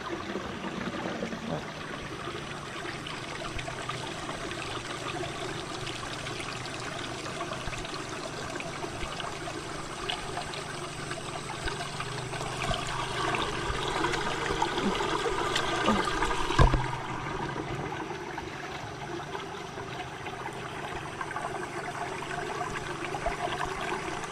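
Water flows steadily at a rural farm spot, a continuous close trickling and gurgling stream that brightens briefly with a splash partway through. No talk is heard.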